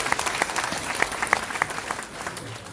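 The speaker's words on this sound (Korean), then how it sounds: "박수 한번 쳐주시죠" A lecture audience applauds with steady, moderately loud clapping that continues evenly throughout.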